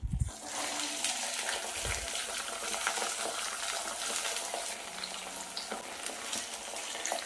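Small onions (shallots) frying in oil for a chicken dish, a dense continuous sizzle with occasional stirring scrapes, close and fairly loud, no voices.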